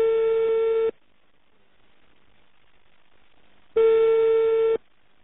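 A Chinese telephone line rings with no answer: two identical long, steady tones about a second each, separated by a few seconds of near silence, clear and close.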